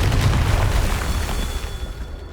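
A Confringo fire-blast curse explodes in the video game Hogwarts Legacy with a heavy, booming blast and a rumbling tail that slowly fades, loud and close with no talking.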